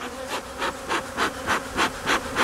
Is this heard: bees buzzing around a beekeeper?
yes